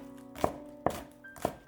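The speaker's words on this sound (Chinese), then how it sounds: "这个时间准备几颗小葱切成葱花" A knife chops spring onions on a cutting board in three sharp, evenly spaced thunks over a steady low background hum, close and clear.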